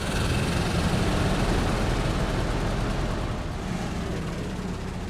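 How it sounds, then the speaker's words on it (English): Engines in a video game roar steadily as they engage, a dense, loud rumbling drone that holds for several seconds and eases slightly toward the end, with no talk. "Engines engaged."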